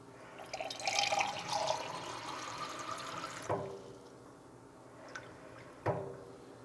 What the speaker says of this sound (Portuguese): Então eu vou pegar na pia água de torneira.